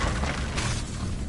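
A short, dense burst of the Confringo fire spell blast in Hogwarts Legacy, a close, loud whooshing explosion with crackle lasting about a second.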